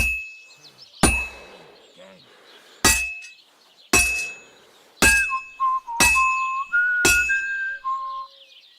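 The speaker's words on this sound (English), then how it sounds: "You've got to hammer the workpiece evenly." Sword workpiece struck with a hammer on an anvil during smithing in Kingdom Come: Deliverance 2: six sharp, evenly spaced metallic clangs ring out about a second apart, the later ones followed by rising whistled game tones.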